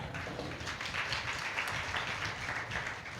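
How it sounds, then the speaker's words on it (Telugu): Church training-programme audience in Palakonda clapping, a dense continuous patter of many hands holding a fairly even level for a few seconds. "క్లాప్స్ కొట్టు గట్టిగా"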